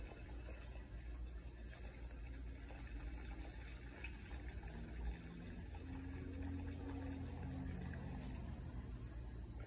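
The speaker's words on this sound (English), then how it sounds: "I'm pouring in boiling hot water." Quiet, steady trickle of boiling water being poured onto Italian roast coffee beans, a soft continuous liquid flow with faint low rumble and no talking.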